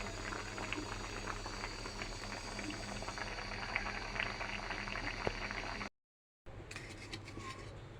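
A pot of dal with mango and curry comes to a steady rolling boil, continuous bubbling and churning with close, even texture throughout, briefly cutting out near the end before resuming.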